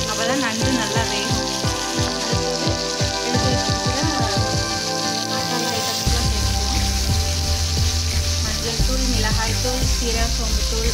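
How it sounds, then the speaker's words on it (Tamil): Crab with tomato and spices sautéing in a pan for a Karaikudi crab curry, a loud continuous sizzle and crackle with stirring clatter throughout. "கொஞ்சம் அப்படியே நல்லா வதங்க விடுங்க, அப்போ தான் நண்டு நல்லா வேணும்."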